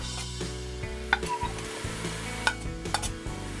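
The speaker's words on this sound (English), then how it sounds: "At this point, I'm also going to add the onion." Onion goes into a pot for Trinidadian pigtail pelau and is stirred, bringing a steady sizzle with several sharp metallic clinks and scrapes of a spoon against the pot, close and with no talking.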